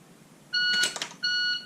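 A shot timer gives a clear electronic beep tone for a dry fire draw, broken by a brief rustle before the steady beep resumes, close and alone.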